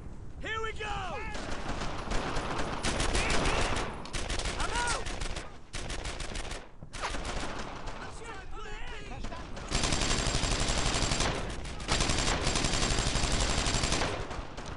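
Gunfire in the World War II shooter Brothers in Arms: Earned in Blood, with dense, sustained bursts of rifle and machine-gun fire laying down suppressing fire. Brief pauses break the bursts, and shouted voices come through in places.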